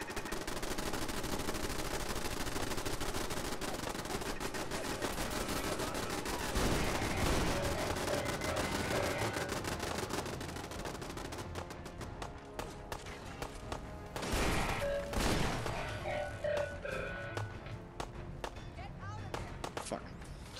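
Automated turrets in Fallout 4 keep up rapid, crackling gunfire, with bursts and single shots rattling under someone talking and fuller volleys breaking through now and then.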